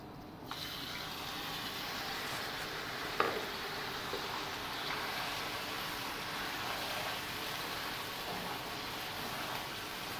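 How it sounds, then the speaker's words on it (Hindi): Half a kilogram of small chicken cubes fry in oil in a pan, giving a steady, even sizzle that holds throughout, with one brief clink near the start; no voices. "चिकन को हम फ्राई करेंगे।"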